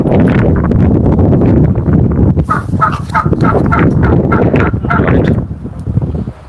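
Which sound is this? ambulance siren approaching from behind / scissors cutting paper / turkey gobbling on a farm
turkey gobbling on a farm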